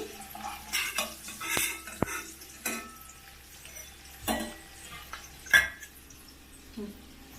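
Roasted eggs taken out of a cooking pan, with sporadic metallic scrapes, clinks and knocks of a utensil against the pan at irregular intervals, moderately close, over a quiet kitchen background.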